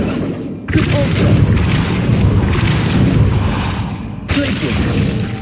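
A Depulso force spell cast in Hogwarts Legacy, heavy booming whooshes and thuds, loud and close, with a brief drop before another blast, amid dense combat noise and a voice.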